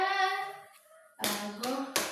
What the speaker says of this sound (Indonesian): tiba-tiba tepuk tangan ke timnya semua